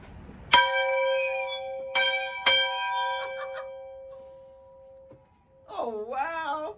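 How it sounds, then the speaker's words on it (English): The campus bell at Palmer Memorial Institute is struck three times, each loud clang ringing out and decaying slowly, followed by a brief excited voice near the end. "Oh, God, look at that bell."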